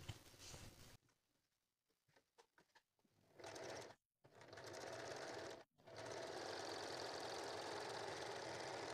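Sewing machine stitching fabric for a puff sleeve, a steady loud mechanical whir running in long continuous bursts with brief stops between them, after a quieter stretch of scattered handling clicks.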